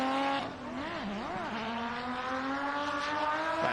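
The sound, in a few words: drift car with RB20 engine revving, clutch kicks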